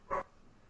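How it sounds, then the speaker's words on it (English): A dog gives a single short, muffled bark somewhere in the room, alone against a faint background hum. "You can check off dog barking from the live stream bingo card."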